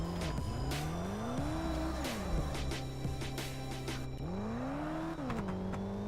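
A Chevrolet Camaro SS in the video game Drift Streets Japan sends out a steady engine drone that rises and falls, with short bursts of tire squeal over a continuous hum and no voices.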